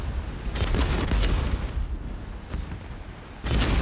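Ship cannons firing in the naval video game Age of Water, a dense rumbling barrage of booms that rolls on steadily, loud and near, with a fresh burst near the end.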